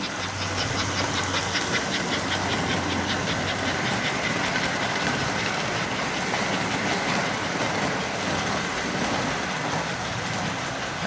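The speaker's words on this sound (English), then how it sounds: "That's a long train for a little Atlantic." A model 4-4-4 Atlantic steam locomotive with traction tires chuffs steadily with a constant hiss, its rapid rhythmic exhaust beats continuing without pause while pulling a long train.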